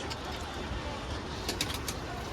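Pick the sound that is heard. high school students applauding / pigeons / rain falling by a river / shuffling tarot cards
pigeons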